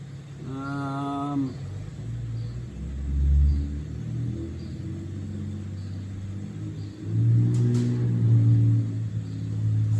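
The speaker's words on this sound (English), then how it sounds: "Always has to be revving the shit out of his truck here in the intersection." A lifted pickup truck engine revs loudly in two bursts at an intersection, a deep rumbling roar swelling and fading against steady low traffic noise.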